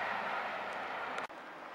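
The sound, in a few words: train 43308 Highland Chieftain at Newark North Gate station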